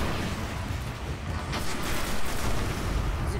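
Sustained gunfire and booming blasts in the sci-fi shooter Destiny, a dense continuous wash of shots and explosions filling the whole stretch, with no talk over it.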